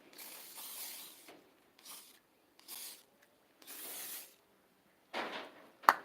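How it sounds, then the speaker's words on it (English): Short bursts of rust remover sprayed from a can onto metal edges, several separate hissing sprays of a second or so each with pauses between, close and fairly quiet, ending with a small sharp click. "Let's get it sprayed"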